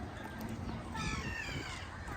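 A bird calls once by the sea in Dubai, a short harmonic cry rising over steady outdoor background noise with no talking.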